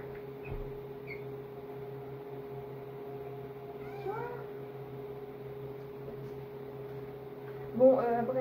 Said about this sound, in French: Ah, mon chat, il gratte à la porte.